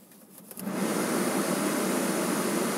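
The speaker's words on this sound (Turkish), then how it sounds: "Klimayı açıyorum." Air conditioning in a Hyundai i10 1.0 LPG switches on, a steady broadband blower rush rising from a low hum at about half a second and then holding loud and even to the end.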